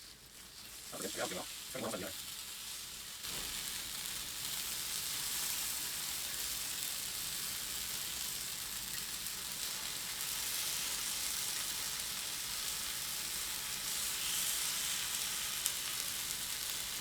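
Rye takoyaki batter sizzles steadily in a hot pan, a continuous close hiss that holds through the whole stretch, with brief handling sounds and a few murmured words near the start.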